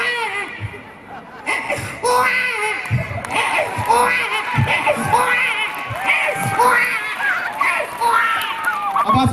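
On stage at an entertainment event, a man mimics a baby crying with repeated wailing sobs, while a lively crowd shouts, laughs and cheers around him.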